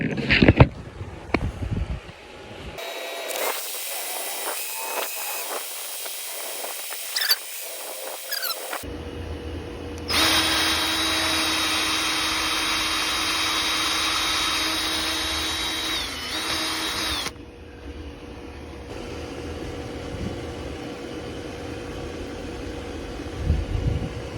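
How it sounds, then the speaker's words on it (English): A power drill drilling through a wall whines in two long sustained bursts, loud and close, with short pauses and handling noise between them, during a generator transfer switch installation. "That's all the deeper I need to drill."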